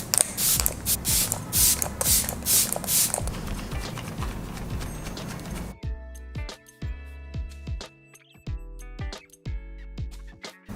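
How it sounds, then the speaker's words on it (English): A series of quick hissing bursts of face setting spray in steady rhythm, followed by plucked, music-like tones with no spraying. "I'm going to spray my face with a little bit of Fix Plus"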